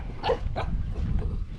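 Dogs bark in short bursts at a village in Thailand during a flood, with a pack of fifteen around. Two or three yips and barks sound fairly close over a low rumbling background.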